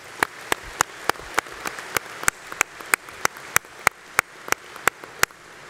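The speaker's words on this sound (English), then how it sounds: "Let's give them another round of applause." At an Armed Forces award ceremony, a handful of people clap in a slow, evenly spaced rhythm, with sharp individual claps over a quiet room.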